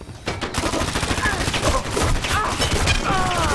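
Sustained rapid turret fire in the shooter Dirty Bomb, a loud unbroken stream of shots with faint chirping game effects layered over it, continuing to the end.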